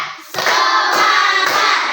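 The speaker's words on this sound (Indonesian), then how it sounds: "Tepuk 1, tepuk 2, tepuk 3" Steady rhythmic hand clapping from a group, loud and close, starting after a brief quiet moment with no talking.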